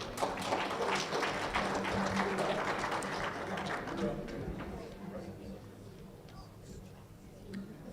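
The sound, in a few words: audience applause for exhibitors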